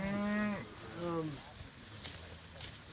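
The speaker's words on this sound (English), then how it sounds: "You all can look at those cows." Cows in a pasture, some with calves at foot, give two drawn-out moos close by, the first louder and deeper, followed by quiet outdoor background with faint rustling.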